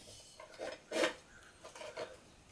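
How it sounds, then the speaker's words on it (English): A homemade aluminum foil spacer goes into a baking pot for dry-baking apple cobbler: a few faint, close rustles, scrapes and light clinks in short bursts. "This is just some aluminum foil spacer that I made. So we'll stick that in there."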